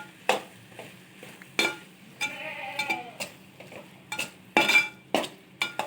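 A metal spoon scrapes and clanks against a pan while stirring chopped tomatoes for chicken curry, in irregular strokes, with soft squishy stirring between the sharp knocks, up close.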